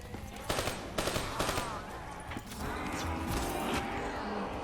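Rapid bursts of automatic gunfire and scattered shots in a Call of Duty Black Ops 3 zombies game, with dense crackling clatter and a sustained noisy rumble behind them.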